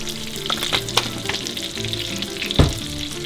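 Mushrooms and onion sauté in a pan for a chicken Milanese meal, giving a steady close sizzle with scattered pops and stirring clatter throughout.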